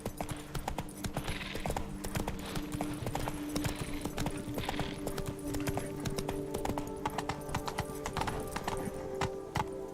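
Hooves of Roach, the horse in The Witcher 3, clip-clopping in a steady continuous trot across the whole stretch over a game ambience bed, with a brief faint whinny-like tone.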